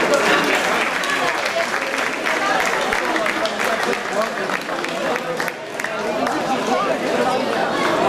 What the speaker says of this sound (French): Et applaudissements pour ces trois champions